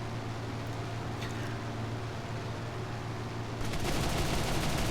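Aircraft machine guns firing in a WWII flight game during a dogfight on a P-61, a continuous loud rattling burst over steady engine roar that cuts off, then a harsher noisy burst near the end.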